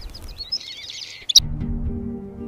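Birds sing around saguaro cactus in the desert, a few high chirps and trills at moderate distance, followed by a sharp click and a low, steady background hum.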